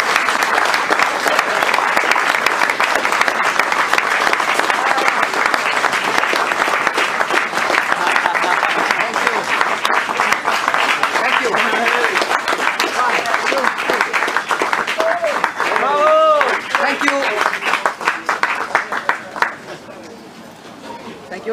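A crowd applauds a new Jordan Grand Prix driver at a team presentation, with sustained clapping and some cheering that gradually thins out toward the end while voices chatter underneath.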